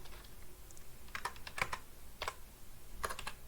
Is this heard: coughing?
no